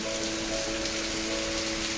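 Dense, steady tropical rain pours down in Bali, a loud continuous hiss of drops drumming on surfaces with a faint hum underneath. No voices.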